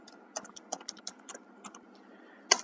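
Typing on a computer keyboard while writing code, a quiet run of separate key taps in an irregular rhythm with short pauses, ending in one sharper, louder keystroke.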